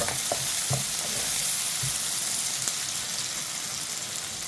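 A vegetable stir-fry sautés in a pan with a loud, continuous sizzle and hiss close by, and a few scraping stirs of a utensil near the start. No one talks.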